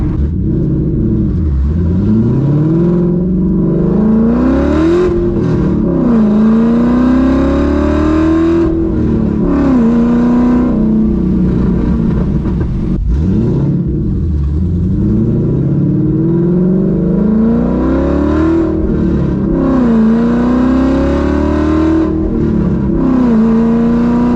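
A Ford SVT Cobra Mustang with a swapped-in Coyote V8 revs hard and close, the engine tone climbing and falling through repeated sweeps over a continuous loud idle, with no talking.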